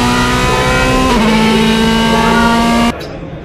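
A Mercedes-Benz DTM race car in a racing game screams at high revs with a steady, loud engine drone that shifts pitch once, then cuts off abruptly near the end.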